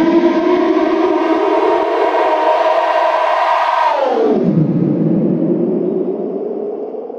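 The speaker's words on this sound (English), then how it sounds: "I'm also modulating a high pass filter, as you can see here, and this gives me some sort of riser" Synthesized riser built from a sine wave and noise through a modulated high-pass filter: a loud, steady buzzy tone with stacked harmonics that sweeps sharply downward partway through, then holds lower and fades slightly, with no voices.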